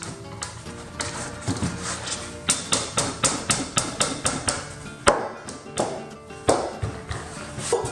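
Cutting a mortise in cedar wood for a breadboard table end, with a steady series of sharp taps, about two per second, near and loud with no talking.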